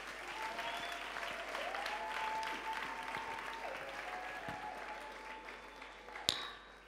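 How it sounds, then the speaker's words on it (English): Church congregation applauding as Grace Living Hope Ministries members come forward at a spiritual birthday celebration; steady broad clapping throughout with a sustained musical tone beneath and a sharp louder clap near the end. "Let's give them a round of applause as they're coming forward."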